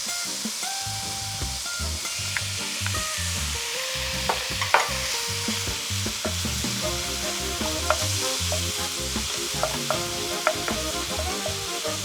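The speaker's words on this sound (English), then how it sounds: "So now we're going to add our calamari." Calamari and prawns fry and sizzle loudly in a hot pan, with a steady crackling hiss broken by repeated scrapes and clatters as a wooden spoon tosses and stirs them throughout, no voices present.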